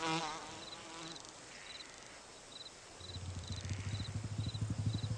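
A housefly buzzes with a thin, high, wavering whine that drifts in and out, then a louder, steady droning buzz takes over close by in a garden, with no voices.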